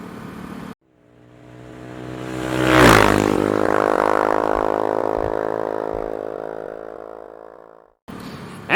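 Motorcycle on a winding mountain road in Japan (Route 182), the engine revving up into a loud sustained drone, then easing off gradually as it runs through several seconds of riding.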